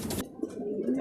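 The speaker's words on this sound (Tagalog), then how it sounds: "Ayan na yung mga ibon." A pigeon gives a brief soft coo, fairly close, amid faint outdoor background noise during a short moment near a flock of pigeons.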